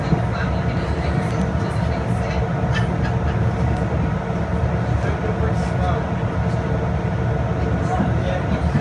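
Train running on the line from Dorchester West towards Weymouth in Dorset, a steady, loud rumble and rattle of the carriage throughout, heard from on board.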